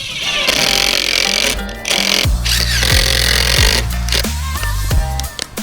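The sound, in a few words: power tool driving screws into reptile basking platform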